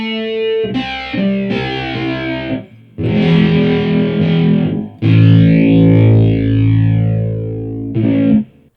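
Electric guitar runs through a JHS 3 Series Flanger pedal, strummed chords swelling with a sweeping, whooshing jet-like modulation, loud and alone, in several bursts separated by short pauses.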